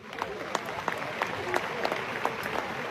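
Scattered hand claps from a seated audience in a hall, a few sharp claps standing out over a murmuring crowd, fairly faint and sparse.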